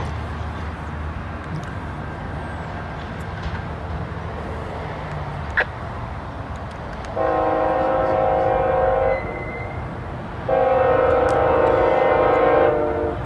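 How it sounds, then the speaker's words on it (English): A northbound CSX freight train on a short line rumbles past continuously while its horn sounds in two long blasts, loud and fairly close. "Got a northbound here on the CSX short line."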